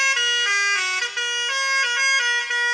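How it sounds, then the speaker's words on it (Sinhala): A bus horn blares loudly and close, a bright multi-tone musical honk that shifts pitch in short steps and holds almost unbroken for nearly three seconds. "ඉතින් ඔය හෝන් ගහන්න පුළුවන් තව හෝන් තියෙනවා"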